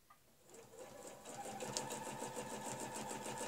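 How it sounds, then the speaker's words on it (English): A sewing machine running steadily at close range as it stitches a Fleur-de-Lys pattern along a quilting ruler, a fast even mechanical whir that starts softly and holds a constant pace. "I'm going to stitch round to that centre line."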